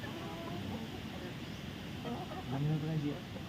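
Several chickens cluck and murmur close by while being fed on a provincial Philippine farm, with soft scattered calls over a steady low farmyard background.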